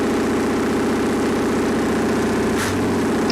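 A Perkins diesel generator engine idling without load, loud and steady with a close, throbbing low drone, a brief metallic click and a slight dip in pitch near the end as the throttle position is disturbed.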